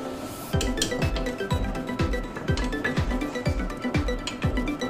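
A metal lid clinks against a cooking pot of mutton kunna, with a rapid series of sharp, ringing metallic taps and scrapes, loud and close, repeating in a steady rhythm.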